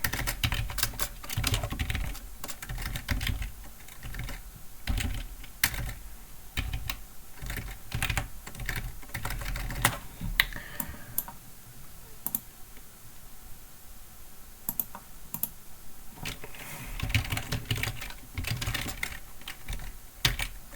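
Rapid clicking keystrokes on a computer keyboard run in uneven bursts of typing for about twenty seconds, close and fairly loud, with brief pauses between runs.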